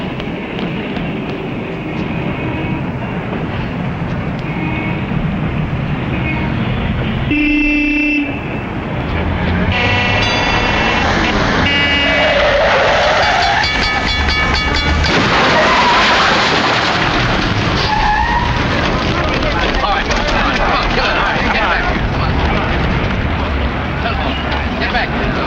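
Car horn blaring, tires skidding and a crash from a 1938 film soundtrack, with horn-like tones and a dense, loud burst of noise over a continuous busy background, with voices around it.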